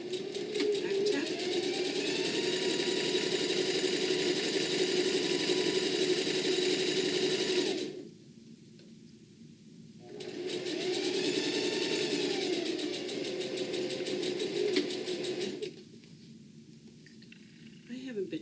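A sewing machine runs in two long stitching bursts while a bag pocket is sewn, each a steady motor whir lasting several seconds, separated by a short pause, with a voice speaking over the stitching.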